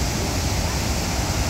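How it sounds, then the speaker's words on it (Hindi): Dhuandhar waterfall on the Narmada river near Jabalpur gives a brief, steady, dense roar of falling water filling the whole sound with no pauses. "ये है धुआंधार वाटरफॉल, देखिए क्या मस्त लोकेशन है,"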